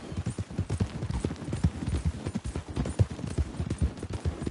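Horse hooves clip-clopping steadily in Red Dead Redemption 2, a brisk, even rhythm of hoofbeats close by with a soft rumble beneath.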